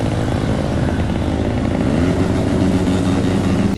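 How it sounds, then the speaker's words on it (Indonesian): A convoy of motorcycles with loud modified brong exhausts circles a town square, giving a continuous, dense engine roar that stays loud and close throughout with no pauses. "Dengan menggunakan knalpot brong, mereka berputar-putar sekitar alun-alun sehingga mengganggu pengguna jalan lainnya."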